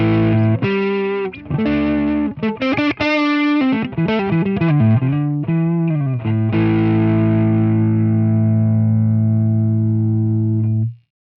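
An electric guitar driven through a Friedman IR-D preamp pedal's overdrive plays a gritty run of notes, then holds a thick, sustained chord that rings out before cutting off.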